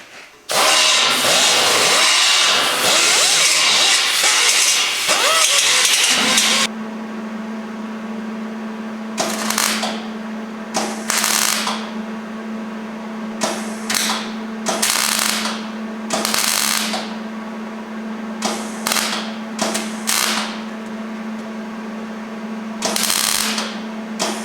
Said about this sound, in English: I got to weld up these holes